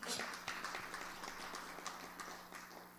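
An audience applauding at a religious katha gathering in the USA. Many hands clap in a dense, even patter for the whole stretch, moderately loud and somewhat distant, with a faint voice murmuring underneath.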